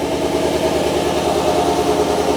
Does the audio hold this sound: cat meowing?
no